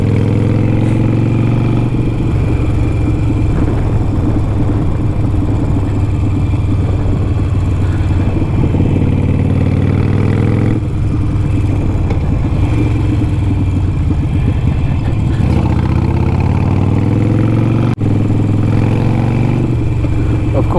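Motorcycles ridden along a road, a Harley Sportster, Kawasaki Ninja and BMW GS, their engines droning steadily and loudly with shifts in pitch as each bike changes speed, no talking.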